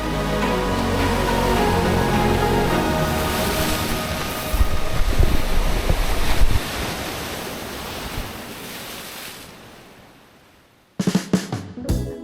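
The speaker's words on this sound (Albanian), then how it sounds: "e vetmja zhurmë që mbizotëron janë dallgët e detit që përplasen në shkëmbi" Sea waves crash against rocks at a coastal campsite in Albania, a loud, continuous roaring wash with surging peaks that fades out, followed by a brief rush of wind buffeting the microphone.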